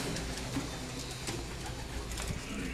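High-flying pigeons coo in low, rolling calls, steady and fairly close, over a constant background hum with no talking.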